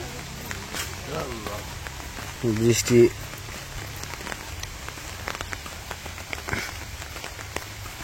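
Rain falling steadily on surfaces in a Bangladeshi village, a soft continuous patter with scattered drips, while a person speaks briefly partway through.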